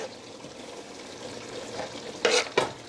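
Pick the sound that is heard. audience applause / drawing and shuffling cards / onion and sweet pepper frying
onion and sweet pepper frying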